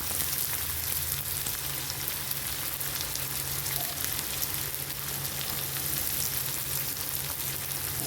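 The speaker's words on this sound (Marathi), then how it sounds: "कांदा छान परतून घ्यायचा आहे आपल्याला" Finely chopped onions frying in oil in a pan, a constant dense sizzle like steady rain, close and even throughout with no voices.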